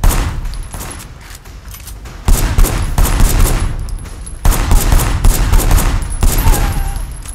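A shootout in Sleeping Dogs: loud, close gunfire pours out in dense, continuous volleys of rapid shots, with two sharp surges in intensity.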